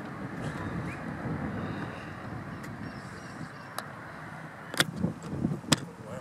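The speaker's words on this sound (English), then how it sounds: "Bloody wind." Wind gusting across an open golf course, buffeting the microphone with a steady low rumble throughout, joined near the end by a few sharp clicks.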